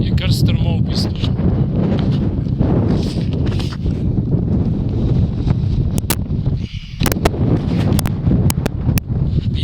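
Strong wind roars across the Vršič mountain pass near the 1737 m summit, a continuous close buffeting rumble with gusty surges and brief lulls, loud at the microphone throughout.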